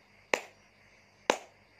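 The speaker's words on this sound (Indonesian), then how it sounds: "Tepukan saat bunyi kuat seperti ini ya." Two loud, sharp hand claps about a second apart, each a crisp isolated smack with a short decay, heard alone in a quiet room.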